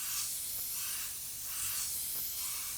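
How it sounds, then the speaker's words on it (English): Airbrush spraying light, even coats of paint, giving a steady, continuous airy hiss that stays fairly quiet and holds level throughout, with no voices. "what I recommend is that you spray in light, even coats and let the paint build up"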